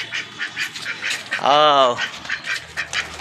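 A new male duck gives one drawn-out, raspy quack, near and clear, between short bits of someone talking in Hindi.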